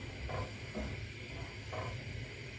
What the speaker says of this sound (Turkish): Fesleğen sosumuzu kaynayana kadar karıştıralım